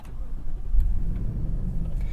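A 2021 Lexus LX 570 idling close by, a low steady engine rumble with slight swells in level and no other prominent sounds.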